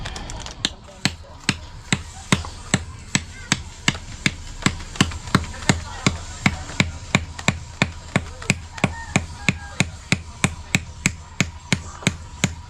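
A hammer strikes a hard, thick shell in a steady run of sharp, close knocks, about three blows per second, repeating evenly throughout.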